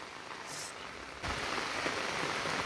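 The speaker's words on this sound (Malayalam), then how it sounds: "നല്ല മഴ" Heavy rain pours down at Kottiyoor in a dense, steady hiss that grows heavier partway through, with no voices.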